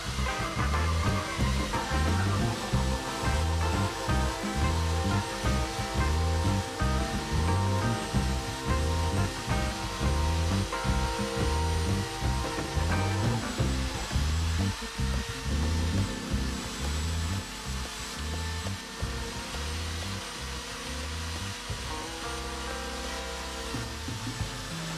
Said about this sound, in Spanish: Lo primero que vamos a hacer es lijar todas las tablas bien lijadas